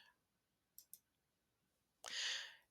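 Two quick, crisp mouse clicks close together, followed by a short breathy rush of air in a quiet room.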